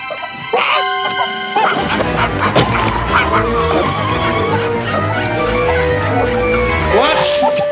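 A cartoon dog barks and whimpers at a dog show, its yelps and whines rising over a busy, steady bed of music and background sound.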